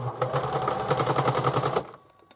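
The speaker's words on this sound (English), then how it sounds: "And I'm going to sew just inside of that seam allowance" A sewing machine stitches a side seam on a fabric bag in one rapid, even burst of needle strokes lasting under two seconds, close by, then stops.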